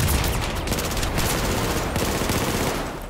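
Rapid sustained automatic fire from a FAMAS rifle in Battlefield 4, a dense, loud rattle of shots with no pauses, close and dominant throughout.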